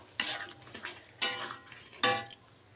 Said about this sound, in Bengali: আদাটাকে বেশ নাড়াচাড়া করে নেবো